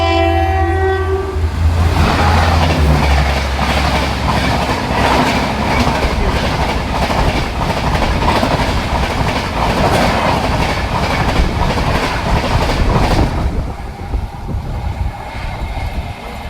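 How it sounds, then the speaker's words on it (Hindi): A horn sounds at the start as the Ahmedabad Borivali Express rolls along the track, its wheels clattering in a steady rapid clickety-clack from close range before easing off near the end. "खाली ट्रैक साउंड सुनना होंगे।"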